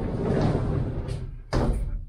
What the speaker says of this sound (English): open up the door,